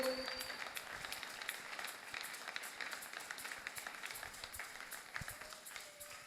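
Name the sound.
congregation applauding in church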